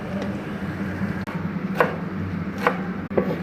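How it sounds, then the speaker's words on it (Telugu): Fresh coriander and mint being chopped on a board for veg biryani, several sharp knife strikes at irregular intervals over a low kitchen hum. "కొత్తిమీర, పుదీనా కట్ చేసుకొని వేసుకుందాం."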